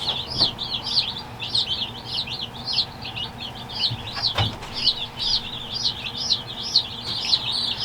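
Baby chicks, including very yellow meat-bird chicks and Rhode Island Reds, chirp steadily in a brooder with a dense run of high peeping calls throughout, plus a couple of brief knocks.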